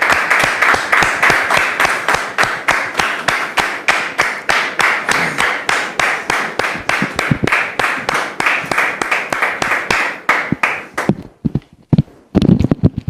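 An audience claps in unison, a loud, steady rhythm of about three beats per second that keeps going for around eleven seconds before breaking into a few scattered claps and fading.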